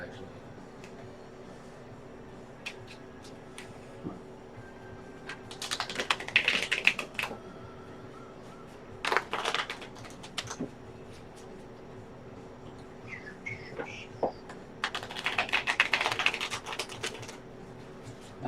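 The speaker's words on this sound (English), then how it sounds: "Thrill as we shuffle cards." A deck of playing cards being shuffled during a tabletop card game, giving soft ticking riffles in several bursts separated by quieter gaps, close and fairly faint.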